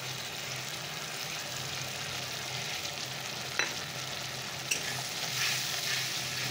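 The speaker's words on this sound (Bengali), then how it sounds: "চলো এটাকে ভালো করে কষিয়ে নিই।" Spice masala sizzles and fries with onion and tomato in a pan, a steady close crackle with two sharp scraping clinks of stirring and no talk.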